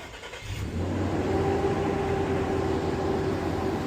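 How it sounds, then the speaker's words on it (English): Nissan Pathfinder engine starting up through a Compustar remote starter: a brief cranking burst followed by a steady mid-pitched idle that settles and continues, heard nearby with no talk. "You'll see the parking light flash and the motor will start right up."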